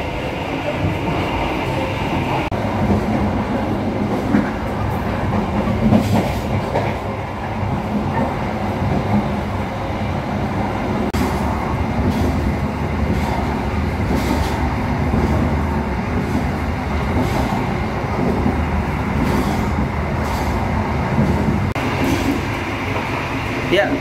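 An Argo Cheribon passenger train running on the Jakarta–Tegal line, heard from the vestibule of executive coach 3: a loud, steady rumble and rattle of the moving carriage with rhythmic wheel clatter throughout, and faint voices at times.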